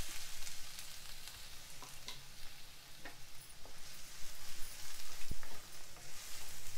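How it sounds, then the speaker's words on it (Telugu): Finely chopped onion frying in hot oil, a soft continuous sizzle with intermittent stirring clicks and scrapes nearby, no talking. "ఇది కొంచెం వేయించుకోవాలి."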